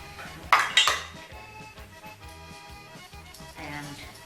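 A spoon scrapes and clinks against a bowl while stirring yeast and sugar for panettone dough, with a couple of sharper knocks early on and a soft ringing hum beneath, and no one talks.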